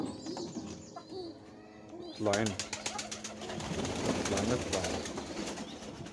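Pigeons coo and flutter close by alongside chickens after nests fell, a busy mix of coos and calls, while a voice speaks briefly over them.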